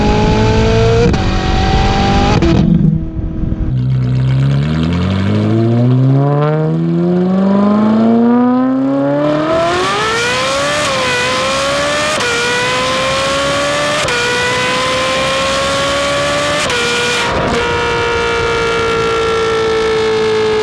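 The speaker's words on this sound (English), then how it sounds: "the exhaust just shoots right through, really gets high speed exhaust, and you get that high pitched scream or screech" A Ferrari 458 with its catalytic converters removed revs hard, the exhaust rising into a high-pitched scream that climbs, falls back and climbs again, loud and close with no talk.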